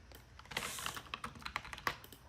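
Rapid keystrokes on a computer keyboard while code is entered, a close, uneven burst of clicking taps with sharper accents every fraction of a second, no voices.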